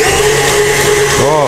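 A KitchenAid stand mixer whirs steadily as it beats peanut butter chip cookie dough, its motor hum close and continuous, with a brief voice-like sweep near the end.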